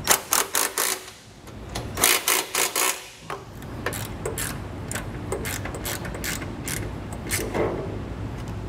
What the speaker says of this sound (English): we're gonna wanna use a wrench and a socket to kind of get in there